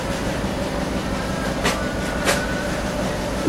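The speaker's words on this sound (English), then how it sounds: "This is the blower that supplies here" Air blower feeding the water system of a mobile fish farm using WRAS, giving a steady, loud broadband rushing drone with no break and two brief hissing surges.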